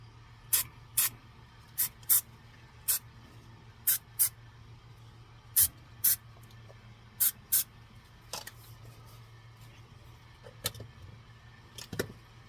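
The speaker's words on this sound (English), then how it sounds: "Maybe I'll just spray a little bit more in a couple of spots here." Short, sharp hissing bursts of aerosol spray paint on a plastic skeleton come in quick pairs at irregular intervals over a low, steady hum. Nobody speaks.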